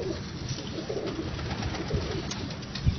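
Ali wale pigeons coo in a Lahore loft, soft repeated calls close by over a steady low background hum.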